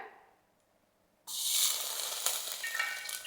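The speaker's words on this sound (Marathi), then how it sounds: "म्हणून टोपात आपण आता तूप टाकूया" Ghee poured into a hot cooking pot for chicken pulao bursts into a loud, steady sizzle that starts abruptly after a quiet moment and keeps hissing close up, with no voices.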